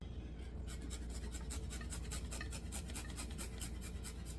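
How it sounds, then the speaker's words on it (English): A garlic clove is grated into ricotta with black pepper and salt. It makes a steady run of soft, rhythmic rasping strokes, close and fairly quiet, with no talking. "I'm going to grate a garlic clove in this"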